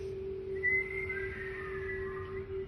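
Several people whistle together in a steady, sustained tone, with a higher shrill whistle briefly joining above, held continuously for a few seconds in an indoor gathering.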